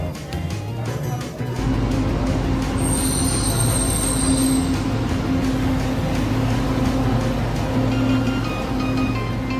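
Loud, close rumble of a Metro Manila light rail (LRT) train rolling along tracks, with steady wheel noise and a shrill high squeal of wheels partway through.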